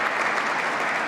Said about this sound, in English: let's give them a round of applause for keeping our people safe